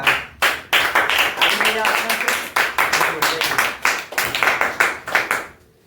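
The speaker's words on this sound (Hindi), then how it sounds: "तालियां, सॉरी तालियां, तालियां।" A classroom of students claps together in a quick, rhythmic burst of sharp hand claps that lasts several seconds, with a short pause near the start. The clapping fades out at the end.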